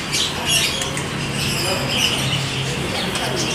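A captive-bred male white-rumped magpie robin (murai trotol) calls at a bird shop, giving scattered high squawks and chirps over steady shop noise and low background hum, with no clear talk.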